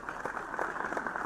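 Light clapping in the video game The Crooked Man, a short run of scattered claps at moderate level over a soft background hum.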